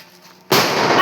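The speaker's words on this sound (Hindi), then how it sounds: "देखो गाइस कितना सारा बम लेके आया है" A firecracker bomb goes off with a sudden loud blast after a quiet moment, followed by a dense, roaring crackle that continues to the end. No one speaks.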